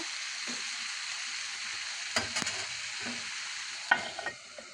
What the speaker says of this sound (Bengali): বেলা এগারোটা থেকে আজকে রান্না করতেছি করলা আলু ভাজি করলা আলু ভাজি বসিয়ে দিয়েছি